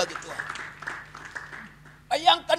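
Congregation clapping in a church worship service, a brief burst of applause rising near the end after a preacher's speaking voice.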